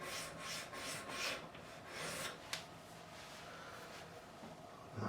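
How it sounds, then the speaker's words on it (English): A very coarse file rasps back and forth over the wooden neck of a 1973 Gibson Les Paul Custom, rhythmic scraping strokes up close with one sharp click partway through, steady and without talk. "It's a very coarse file,"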